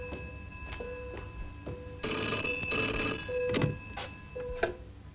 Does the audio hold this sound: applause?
no